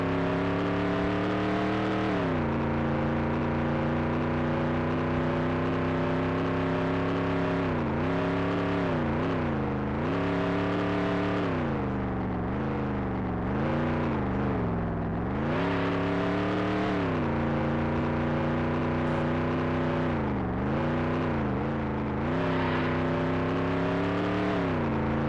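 Race car engine in a NASCAR video game qualifying lap, a loud continuous high-pitched drone that rises and dips repeatedly as the car shifts and works through corners, with no talk over it.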